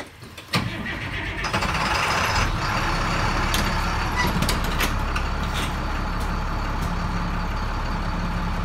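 A bus engine pulls away from a stop and keeps driving, a loud, steady drone with a sharp burst near the start and faint clunks over the top, with no voices.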